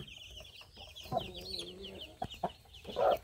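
Chickens cluck close by in short bursts and a few drawn-out calls, with faint background noise between them.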